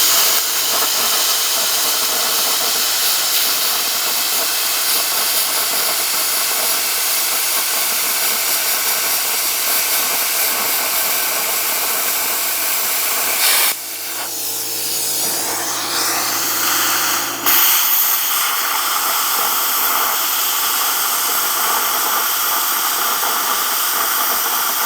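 A Best Arc plasma cutter on 240 volts cuts quarter-inch angle iron, a loud continuous hissing roar with a brief change partway through before the steady blast resumes.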